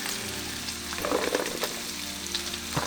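Green beans fry in plant-based butter and avocado oil with a steady, close sizzle and a few brief stirring clatters, no voices.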